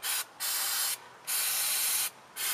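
Brake parts cleaner sprayed onto brakes in three close, loud hissing bursts, each a second or so long, separated by short pauses.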